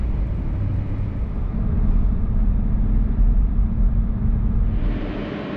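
Steady, close engine and road rumble from inside a car driving through the desert toward Lee's Ferry, a continuous low drone with tire noise and no talking, shifting slightly near the end.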